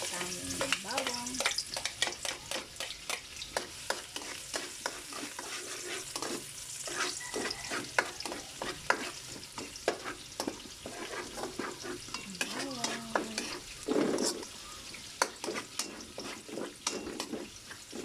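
Mung beans and garlic sautéing in a pan for a Kapampangan ginisang monggo, a steady sizzle broken by repeated scraping stirs of the utensil, close and continuous, with no voices.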